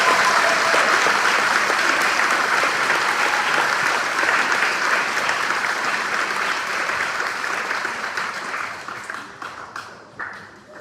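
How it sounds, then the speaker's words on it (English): Audience at an elementary school fourth grade celebration gives a long round of applause, thick and steady clapping that gradually thins and fades toward the end, with scattered last claps. "Can we give them a round of applause for everything they've done?"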